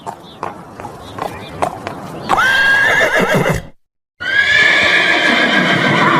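A cartoon horse in a Hindi animated tale about a king and his horse whinnies loudly twice, with hooves clip-clopping in short bursts before it, then a brief silence and a second long, shrill neigh.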